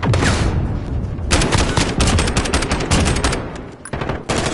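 Sustained rapid gunfire from a PS4 video game firefight, dense overlapping shots and bursts rattling continuously at close range and high loudness, with a short lull near the end before another volley.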